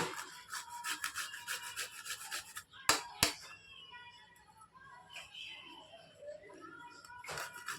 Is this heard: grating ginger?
yes